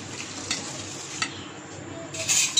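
Eggplant fritter batter being mixed in a bowl: a steady wet stirring hiss with a few brief clinks of utensil against the bowl, close and moderately loud, with no talking.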